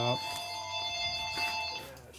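A phone rings in a motorcycle repair workshop during a 1972 Harley Sportster ironhead engine case rebuild, giving a sustained electronic tone that holds steady and briefly dips near the end, with no talking.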